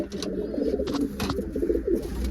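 Soft, low pigeon coos repeat several times, murmuring close by in a quiet setting with a few faint clicks between them.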